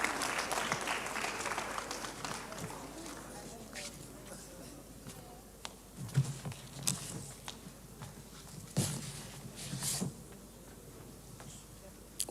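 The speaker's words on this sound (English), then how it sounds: "A round of applause for him, please" Scattered applause from a conference audience at a creators' gathering, fairly distant and fading as it goes, with footsteps, rustling and occasional voices breaking through the thinning claps.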